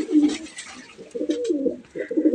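Pigeons in a netted loft cooing, several soft low throaty coos repeating close by with faint background rustle, no one talking.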